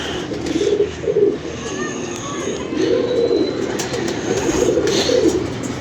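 Several pigeons coo in soft, rolling bursts that rise and fall, fairly close, over steady outdoor background noise, with occasional faint chirps and someone speaking intermittently.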